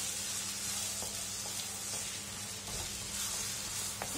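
Egg bhurji, spiced scrambled eggs, sizzling in a pan over medium flame while being mixed, a soft continuous hiss with occasional spatula taps, no talking.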